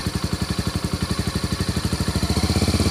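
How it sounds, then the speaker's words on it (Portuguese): A motorcycle engine running as the clutch is let out and the bike pulls away, a loud close rhythmic thrum whose pulses quicken and strengthen toward the end. "Estou soltando a embreagem ao mesmo tempo. A moto está saindo."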